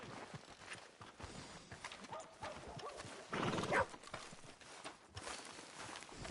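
Horse hooves clip-clopping along a town street in Red Dead Redemption 2, a quiet irregular walking rhythm with a brief louder burst in the middle.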